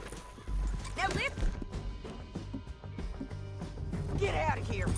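Horse hooves clip-clop in a steady rhythm during a ride in Red Dead Redemption 2, mixed with game music, effects and voices talking over them throughout.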